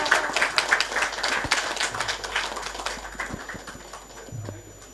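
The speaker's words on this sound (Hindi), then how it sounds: "जोरदार तालियां हो जाए" Audience applause at a charity-run income tax outreach event, a dense wash of many hands clapping at close range that gradually thins and fades toward the end.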